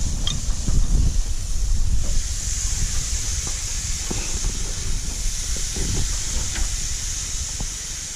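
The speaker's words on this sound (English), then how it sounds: "Listen to that sizzle." A steak sizzles on a hot grill, giving a steady bright hiss with scattered pops and crackles that fades slightly toward the end.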